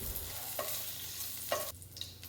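Spoonful of ghee heating in a used pan as an ingredient is added, giving a steady low sizzle with a few soft stirring scrapes and clinks, fairly faint and without any talk.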